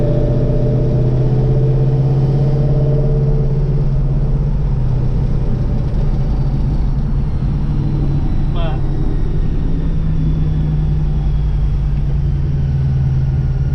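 A 1967 Ford Mustang with an automatic transmission cruises along, its engine giving a steady, loud low drone and road rumble that holds evenly throughout.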